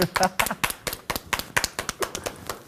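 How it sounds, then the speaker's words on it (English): Sparse applause at a discussion event, a handful of distinct hand claps in an uneven rhythm, fairly close and moderately quiet, with no voices over them. "Round of applause."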